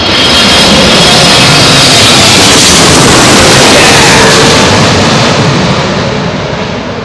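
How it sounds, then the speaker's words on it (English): Loud, sustained jet roar from a Boeing 777-300 with GE90 engines landing on runway 27L at London Heathrow in a crosswind, broadband and steady throughout, swelling slightly mid-clip and easing toward the end, with no talking. "know that this is a 777-300. She's no doubt got GE90 engines, 115B variants probably"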